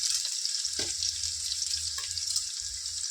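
Onions and green chillies fry in hot oil for a chicken dish, giving a steady hissing sizzle close up with a low bubbling rumble beneath and a couple of faint clinks, and no voices.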